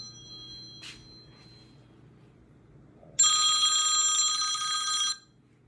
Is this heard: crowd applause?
no